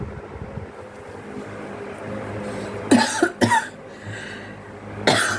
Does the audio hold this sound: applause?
no